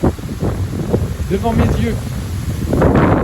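Strong gusty wind roaring outdoors during a storm with gusts around 70 km/h, a continuous loud buffeting rush over the microphone that swells toward the end, with someone speaking over it.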